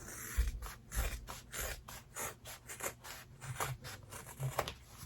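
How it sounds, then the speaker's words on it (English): Scissors snip through excess fabric on a zipper bag in a rapid series of short, crisp cuts, close and moderately quiet, with a few soft rustles and thumps of fabric being handled. "I go ahead and cut this excess off"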